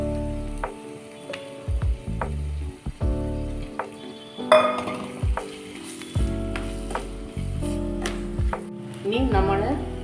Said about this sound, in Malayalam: പച്ചമുളക് ചേർത്ത് വഴറ്റണം. അരച്ച് വെച്ചിരിക്കുന്ന മസാല ചേർത്ത് കൊടുക്കുക.